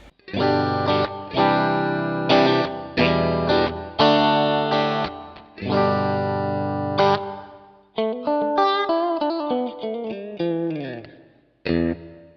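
An electric guitar played through a Wampler Pinnacle distortion pedal across its gain range rings out in loud strummed chords and sustained notes, then a bending single-note lead line, with no talking over it.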